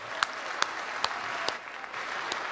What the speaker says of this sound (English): Applaud them, everybody.